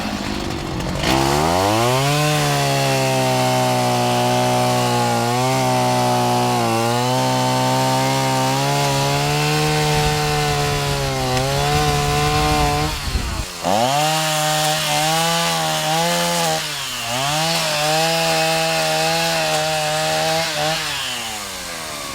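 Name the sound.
gas-powered steel chainsaw cutting wood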